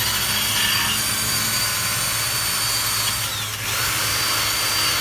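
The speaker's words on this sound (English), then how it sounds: "it's worth it to have one of these wire brush bits for your drill" Power drill spinning a wire brush bit to clean rear brake bolt threads on a Chevy Volt, a steady loud whir with brief scrubbing changes as the bit works the metal, close up and alone.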